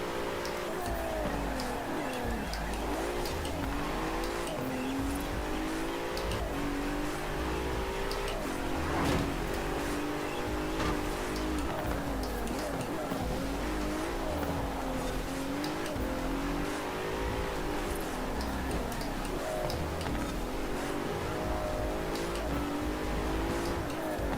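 Car engine in Forza Horizon 4 racing, a steady loud drone with rising and falling revs throughout, continuous without pause.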